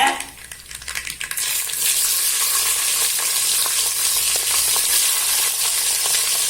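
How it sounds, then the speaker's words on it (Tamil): Garlic frying in hot oil with popped mustard seeds for kara kuzhambu, a loud, dense and continuous sizzle heard up close, with a few sharper crackles as it starts. "பூண்டு கொஞ்சம் நேரம் வதங்கட்டும்"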